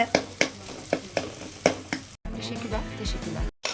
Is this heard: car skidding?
no